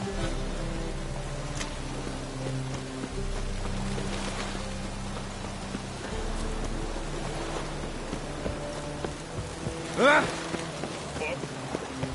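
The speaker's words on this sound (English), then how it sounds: "I want to make it rain." Steady rain hisses down over a low ambient drone, with a brief whooshing swell near the end, in The Witcher 3 video game.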